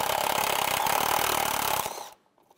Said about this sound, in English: Take this nut off, use a 10mm socket.